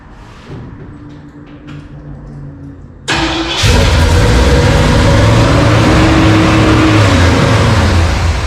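A crew cab truck engine cranks and fires after being primed with fuel, catching abruptly and settling into a loud, rough running idle close by.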